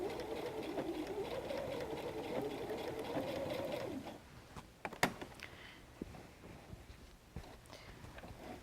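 A sewing machine back-stitches a messenger bag seam, a quiet rapid whirr for about four seconds that then stops, followed by scattered clicks and handling taps from fabric and machine.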